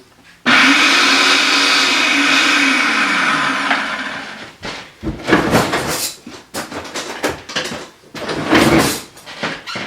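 A food processor blending chickpeas whirs loudly and steadily, then runs in several short, choppy pulses with brief pauses between them.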